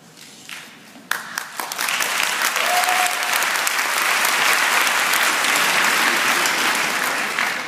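An audience at a Strasbourg kick-off event bursts into applause after a quiet start, the dense clapping swelling quickly and holding loud and steady to the end.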